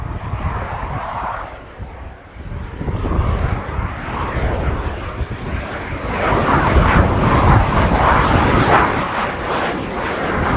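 A Swedish Air Force Saab Gripen jet roars past at an airshow, its loud broadband engine thunder swelling steadily and peaking strongly toward the end of the pass with no voices.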